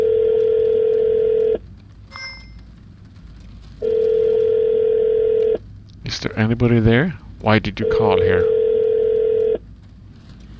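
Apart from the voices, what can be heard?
telephone dial tone and ringing in video game Shadows of Doubt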